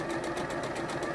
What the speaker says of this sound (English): There we go, zigzag over your seam.